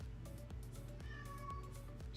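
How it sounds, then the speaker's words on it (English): Faint, plaintive meows from a house cat sound from across an indoor room, a few brief calls set against a low, regularly pulsing background noise. "I got a cat meowing in the background"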